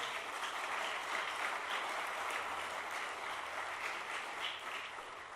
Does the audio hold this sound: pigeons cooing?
no